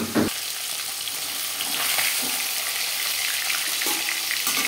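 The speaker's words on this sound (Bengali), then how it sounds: "মাছ ভাজা হয়ে গেছে।" Fish pieces sizzle and crackle steadily in hot oil in a pan, a dense continuous frying hiss with occasional stirring scrapes, close and fairly loud throughout.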